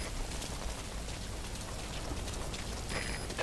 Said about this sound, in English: That rain just won't let up.